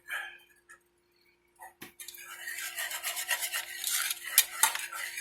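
A whisk scrapes and rubs steadily through cheese sauce in a heavy-duty pot, a continuous rhythmic metallic scraping close by after a few quiet knocks.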